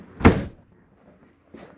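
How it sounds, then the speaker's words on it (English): The entry door of a 2018 Coachman Apex 249RBS travel trailer swings shut with one solid thud, followed by a softer latch click. "close our door"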